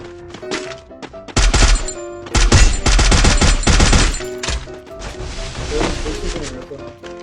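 Gunfire rattles in a shooter video game, with dense bursts of rapid shots close by and scattered single cracks, while a voice talks over the action.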